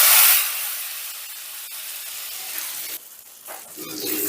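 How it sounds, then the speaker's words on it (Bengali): Hot oil tempering with dried fenugreek leaves poured into yogurt for chicken makhani, giving a broad hissing sizzle that bursts loud at first, then settles into a steady fizz that fades and flares again. "এবারে এই তড়কাটা দইয়ের মধ্যে ঢেলে দিচ্ছি।"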